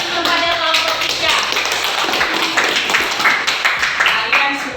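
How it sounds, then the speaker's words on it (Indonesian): A classroom group claps for a presenting group of students, a close, loud burst of many hands patting together with a steady, slightly uneven rhythm. "Beri tepuk tangan kepada kelompok 3"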